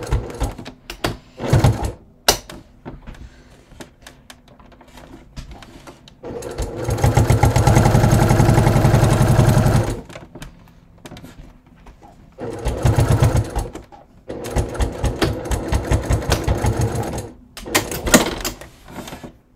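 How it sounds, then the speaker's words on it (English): Short bursts of a sewing machine stitching leather bag panels close to the folds, a longer sustained run and several rapid clattering stretches separated by pauses and light handling clicks, close and fairly loud. "I'm just stitching really close to those folds together"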